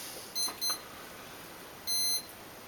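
An RC helicopter's ESC on an MJX F645 with a brushless mod chirps after its battery is plugged in: two quick high beeps followed by one longer beep, clean and close over faint hiss.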